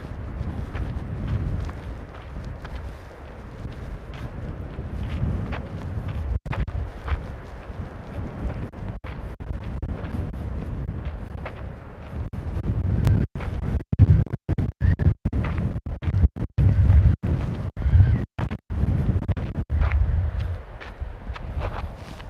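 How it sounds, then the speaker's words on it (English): Gusty wind buffets the microphone continuously while someone walks outdoors, with heavy rumbling blasts and brief dropouts in the second half. "I'm about to turn the corner, then the wind will be on my back. I can get out of this wind issue here."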